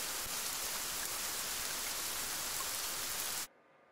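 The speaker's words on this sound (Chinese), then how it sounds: "今天下雨。" Steady, dense rain pours down as an even hiss for about three and a half seconds, then cuts off abruptly into near silence.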